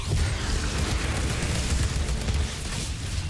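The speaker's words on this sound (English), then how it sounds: "Explosions!" Heavy explosions in the shooter game Outriders, a dense continuous rumbling boom with crackling debris, loud and without speech.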